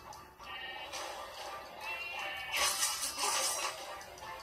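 Sheep bleating in the video game Skylanders Spyro's Adventure, a few wavering cries over busy game music and effects, with a louder burst of action near the end.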